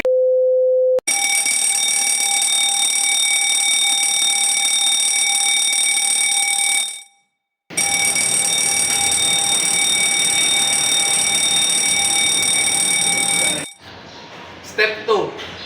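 A fire alarm rings loud and continuous for most of the clip, a steady electronic tone that cuts out briefly midway before resuming, then stops near the end as other noise follows.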